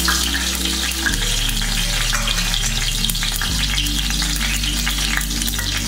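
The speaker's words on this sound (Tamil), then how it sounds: "எண்ணெய் காஞ்சிச்சு நம்ம பட்டலை மட்டும் போட்டு" Cinnamon sticks frying in hot oil at the start of a country-chicken dum biryani, giving a loud, dense, steady sizzle over sustained background music chords.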